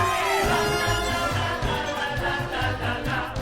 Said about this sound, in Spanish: Y la interpretación de la conga por Broadway suena así.